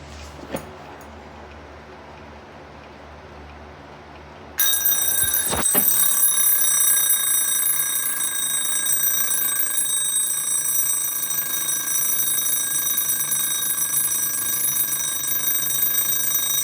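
An alarm clock rings: after a few clicks from its stiff knob, a continuous bright metallic bell rattle starts suddenly and keeps going loud and close to the end.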